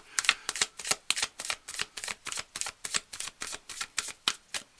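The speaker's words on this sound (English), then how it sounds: "I'm just going to shuffle." Tarot cards being shuffled close up, a steady run of crisp riffling slaps repeating in a quick, even rhythm with no talking.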